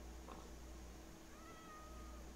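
Cat meowing in a video game while it is stuck in the water, a short faint mew over a steady low ambient hum, with no talking.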